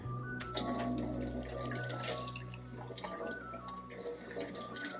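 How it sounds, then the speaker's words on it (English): Tap water runs steadily into a sink while a foraged lobster mushroom is rinsed under it, with light splashing and handling noises close by. "I'm gonna wash this, cut it up, and see what we can make for dinner"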